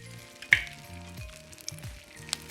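Egg scrambling in a lightly oiled pan beside fried rice, a soft steady sizzle with occasional spatula clinks and scrapes, close and fairly quiet.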